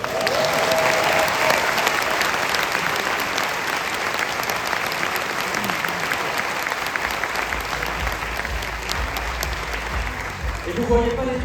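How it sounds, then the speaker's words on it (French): Cinema audience applauding after a film introduction, a dense, steady wash of many hands clapping that fills the room from start to finish, with some crowd murmur mixed in and a voice entering near the end. "maintenant vous pouvez les applaudir"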